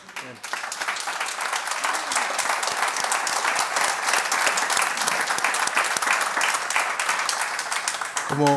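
A crowd at a political conference panel applauds steadily, dense clapping that fills the whole stretch before fading at the end.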